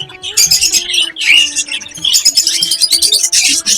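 Adult male budgerigar squawking and chirping up close, a loud, busy run of harsh bursts and rapid tweets in quick succession with brief gaps between.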